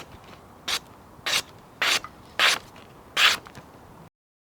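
A Japanese bunka knife is drawn through a cheap $6 pull-through sharpener, making five quiet, evenly spaced gritty scraping strokes with brief silences between them and no talking.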